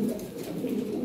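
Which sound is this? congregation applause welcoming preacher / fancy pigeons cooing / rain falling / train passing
fancy pigeons cooing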